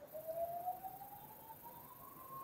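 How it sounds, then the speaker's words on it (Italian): A siren from a passing ambulance outside, faint and distant, with one steady tone rising slowly in pitch as the vehicle goes by. No one speaks. "è passata anche un'ambulanza, immagino che voi l'abbiate sentita"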